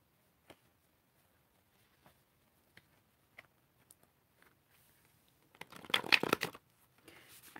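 A deck of cards is shuffled up close: a few soft isolated taps and handling sounds, then a brisk riffle burst of about a second, followed by quieter card rustling.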